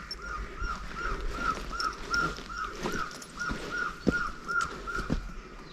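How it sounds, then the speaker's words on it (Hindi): Repeated bird calls ring out from trees on the Rohanda to Dev Kamrunag temple trek, a steady run of short chirps about every third of a second, with occasional harsher caws and a few sharp knocks in the background. "यहाँ से आ रही, इन पेड़ों से आ रही चिड़िया की।"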